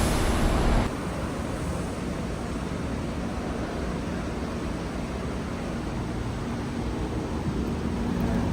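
Steady, unbroken wash of surf from the indoor ocean at Biosphere 2, with a louder rush at the very start before settling into an even, close roar.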